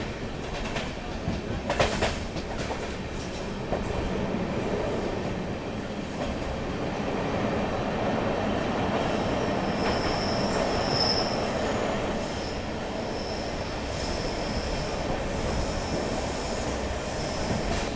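The Andhra Pradesh Express runs along the New Delhi area lines, heard from inside a general coach as a continuous rumble with sharp wheel squeals, intermittent clacks and a steady rolling roar.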